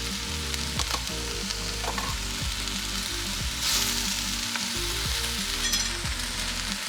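Sliced poblano and güero chiles frying in a pan, a loud, dense, unbroken sizzle up close with occasional stirring scrapes, no voices.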